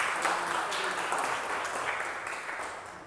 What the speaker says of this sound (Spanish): No aplausos, esto es clase.